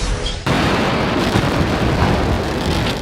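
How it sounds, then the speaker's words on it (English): SpaceX Starship prototype rocket exploding during a landing attempt: a sudden loud blast after a brief quiet start, followed by a sustained roaring, rumbling wash of noise that holds steady to the end. "An unmanned SpaceX rocket exploded during a return landing attempt on Wednesday."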